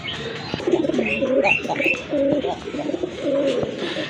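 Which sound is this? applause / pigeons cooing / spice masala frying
pigeons cooing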